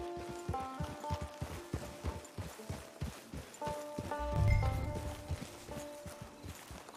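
Horse hooves clip-clopping at a steady riding pace in a Western video game, fairly close, with soft ambient game sounds and a brief low thump partway through.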